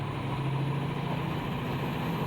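A truck engine idles steadily with a persistent low hum and no talk, running rough from a suspected faulty injector.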